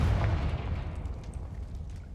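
A fire-spell explosion in the Hogwarts Legacy video game: a single deep boom at the start that rumbles and decays over about two seconds, with no talking.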